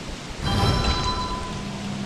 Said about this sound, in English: just as I made a fire that starts raining frogs